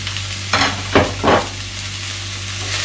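Sliced onions sauté in a pan with salt for a crab roast, giving a steady close sizzle with three distinct stirring strokes in quick succession near the start.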